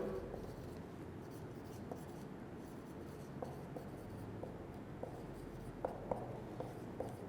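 A pen scratches steadily on paper as an answer is written by hand for a chemistry lesson, faint and close, with small taps and strokes over a low background hum.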